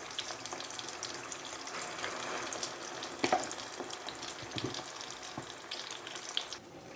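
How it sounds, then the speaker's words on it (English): Mixed peppers with onions, garlic and ginger fry in hot oil for Nigerian jollof, giving a continuous sizzle and crackle with occasional stirring clinks and scrapes, close by and free of talk. "So now it's about frying the mixed pepper. You know what I mean? The onions, the garlic, the ginger,"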